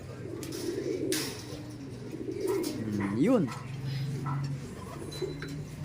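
Soft repeated cooing of racing pigeons close by in a loft, with a person murmuring a brief word or two in between.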